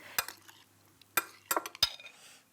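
Tomato salad with snacking tomatoes being tossed in a bowl, giving a few sharp clinks and scrapes of utensils against the dish, spaced irregularly and close up with no talking.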